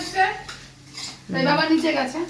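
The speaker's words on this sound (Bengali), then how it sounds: "মাংসটা এখন কষিয়ে দিচ্ছি" Meat being sautéed and stirred in a pan in a home kitchen, with metal utensil scrapes and clinks against the pan in short bursts, a voice speaking partway through.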